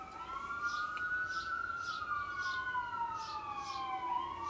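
A siren wails steadily in the distance, its tone sliding slowly up and down over a constant background hum.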